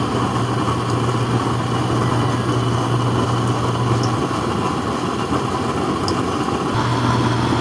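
A small homemade blower stove burning oil, its fan run from a power bank, gives a steady loud roar and hum that continues without pause, with no voices over it.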